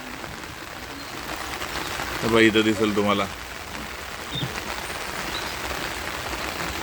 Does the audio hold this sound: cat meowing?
no